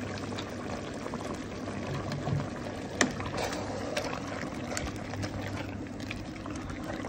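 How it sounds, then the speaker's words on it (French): Semi-thick cream being poured into a pan, a soft continuous liquid pour and gentle bubbling with a single faint clink partway through, quiet and close. "je vais mettre en tout 20 centilitres de crème semi-épaisse"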